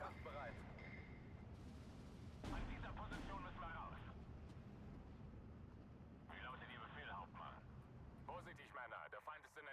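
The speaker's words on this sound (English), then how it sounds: "Where is that mortar coming from?" Mortar fire in a video game booms faintly and distantly as low, rumbling thuds beneath frequent bursts of someone talking.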